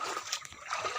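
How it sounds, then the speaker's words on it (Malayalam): Water trickling in a small rural stream near tree roots, a brief faint burble with light splashy gurgles, close by and alone. "ഇതാണ് തോട്"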